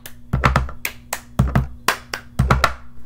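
A cup song rhythm of hand claps and cup taps on a table, crisp sharp hits in quick groups of three and pairs, close and clear with no talking.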